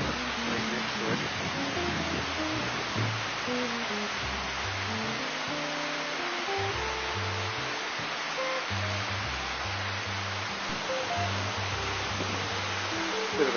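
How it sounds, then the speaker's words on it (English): Steady broadband rush of a spectacular waterfall beside the Mummery Glacier near Golden, BC, a continuous roar heard alone with no talk. "Pretty spectacular waterfall right next to it."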